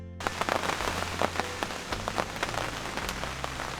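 Steady rain falls and patters on nearby surfaces during archery season, a dense, even hiss with scattered close drops ticking through it and no voices.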